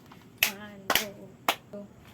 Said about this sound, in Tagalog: bigyan ng 3 palakpak ang inyong mga sarili